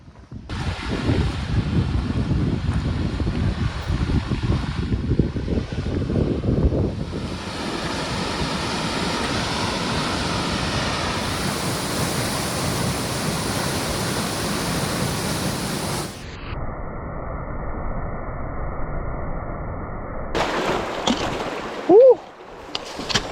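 Steady roaring rush of a waterfall on the Ram River in the Ram Glacier Valley, loud and broadband, continuous throughout with a shift in texture partway and a brief knock near the end.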